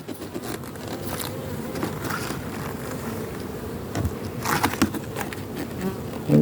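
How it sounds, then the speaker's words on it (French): Honeybees buzz continuously in a dense, close hum while a beehive super is handled, with occasional louder passes of individual bees and faint handling noises. "Il y a des abeilles."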